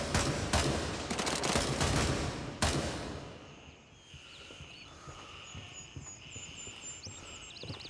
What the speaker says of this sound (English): There's a gunshot.